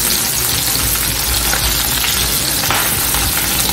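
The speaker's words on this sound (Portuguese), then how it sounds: "Dá uma leve fritura só dos outros lados." Pre-cooked sausage frying in a pan while being stirred, a loud, dense, continuous sizzle and crackle up close, with light scraping of the stirring mixed in and no voices.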